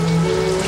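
Steady rain pours down outdoors at night in a dramatic scene, a continuous broadband hiss with tonal background music layered over it.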